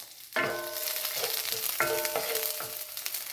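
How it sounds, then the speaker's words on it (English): Garlic sizzles in hot oil for green shakshuka, a close, bright hiss with a few sharp metallic clanks of a utensil against the pan. "We're going to cook this just enough where it starts to get a little bit golden"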